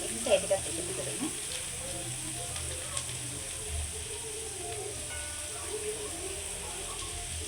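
Chicken sizzles and fries in a pan for cheese kottu, a steady soft crackling hiss with occasional clinks of utensils, while a person talks over it.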